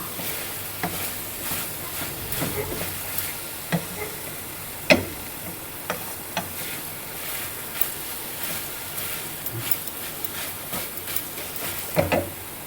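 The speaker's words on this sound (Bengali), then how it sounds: "এরপর আমি আরও 1 মিনিট নাড়াচাড়া করে নেব" A coconut and jaggery ladoo mixture is stirred in a pan. It makes a faint, continuous scraping with scattered soft clicks and taps, and no voices are heard.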